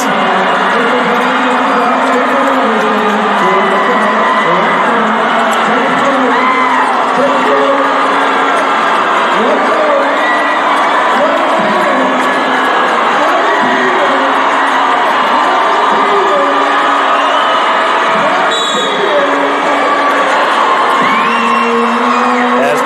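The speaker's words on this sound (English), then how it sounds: "Brings this crowd to their feet." A packed high school boys basketball gym erupts after a right-handed slam dunk, with loud sustained cheering, whoops and shouts filling the whole stretch while an announcer talks over it.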